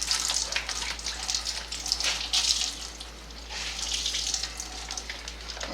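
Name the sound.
squeezing water out of laundry in a Laundreez travel washer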